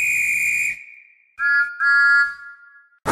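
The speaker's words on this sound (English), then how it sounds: "The guard blew his whistle" A train guard blows his whistle on a railway, giving a long shrill blast, then a pause, then two more bright, loud toots in quick succession.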